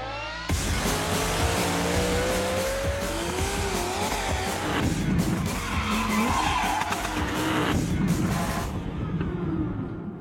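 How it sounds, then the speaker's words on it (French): Many 4x4 engines roar together in a loud, continuous blast, with revving sweeps and screeching tires, as off-road vehicles race across desert sand dunes near Liwa, Abu Dhabi. "des centaines de 4x4 pressés de passer du silence des sables au tonnerre des moteurs"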